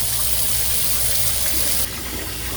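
Running water gushes steadily and close by while snow-dyed fabric is rinsed, a continuous splashing rush that thins out slightly near the end.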